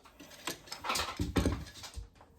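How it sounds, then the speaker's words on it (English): A small dog plays with a stolen soft toy indoors, claws clattering and tapping on a hard floor in irregular bursts, with scuffling and a few louder thumps close by. "So that's why the claws are clattering around on the floor."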